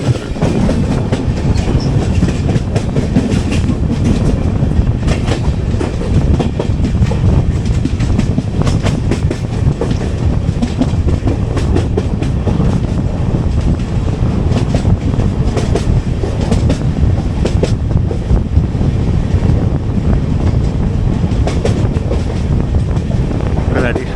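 The 12201 Garib Rath Express runs on the Konkan Railway, a loud continuous rumble with steady clickety-clack of wheels and wind buffeting, recorded from on board.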